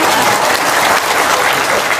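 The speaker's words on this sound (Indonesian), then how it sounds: "Tepuk tangan dong." An audience claps together in a dense, steady burst of applause that runs loud and close for about two seconds with no talking over it.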